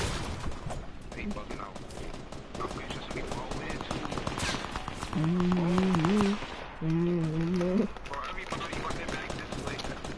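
Rapid video game gunfire crackles in bursts through a busy match, mixed with game effects and a tonal alert, while players talk excitedly over it.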